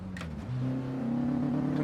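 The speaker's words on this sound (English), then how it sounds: "This car's really loud, isn't it?" A loud car engine revs up and holds a rising, steady drone close by, with a brief higher noise just before the revs climb.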